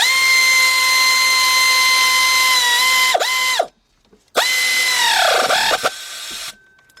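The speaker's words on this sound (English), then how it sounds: "got my 3/8 drive air ratchet" A 3/8-drive air ratchet whirs loudly and steadily while tightening engine bolts on a 2003 Jeep Liberty Sport 3.7, with two long close-up runs that each slow and wind down before cutting off.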